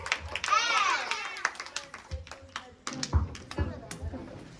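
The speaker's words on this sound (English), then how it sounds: "A round of applause to them. Please clap everyone." An audience at a school Children's Day celebration claps for the children's performance, scattered claps rising under close talk and children's voices.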